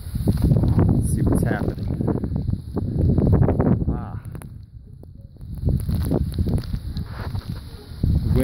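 Strong wind gusting loudly through a snowy blizzard outdoors, a steady roaring rush with rises and dips in strength while a person walks and talks over it.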